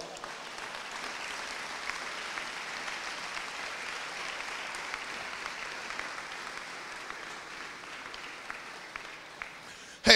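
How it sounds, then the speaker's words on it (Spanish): Sustained congregational applause in a church service, an even, moderately loud wash of many hands clapping together for the full duration, ending with a brief louder burst. "Denle un aplauso al Señor."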